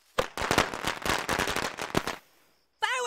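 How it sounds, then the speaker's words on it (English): Fireworks crackle and pop in a rapid, dense burst of sharp bangs, close and loud, stopping abruptly before a brief quiet and a short wavering tone at the end. "Fireworks are illegal in Colorado"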